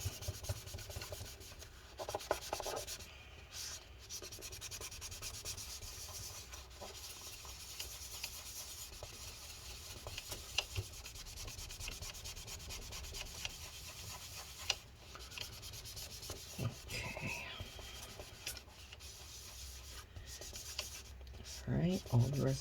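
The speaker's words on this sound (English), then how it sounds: "Continue wiping it up." A cloth wipes residue from the inside of a 15-inch 2012 MacBook Pro A1398, giving a long steady run of close, soft rubbing and scrubbing strokes with brief breaks.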